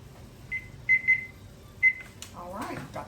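Kitchen timer being set while cooking fettuccine, giving four short, clear electronic beeps in an uneven pattern, followed by brief clatter and a voice at the end.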